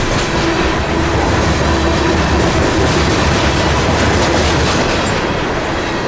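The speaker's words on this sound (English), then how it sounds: "This train must have been heavy enough to warrant a mid-train DPU." A heavy freight train of rock-hauling hoppers rolls past close by, its wheels giving a loud, continuous clickety-clack and rumble with faint squeals, and no voices over it.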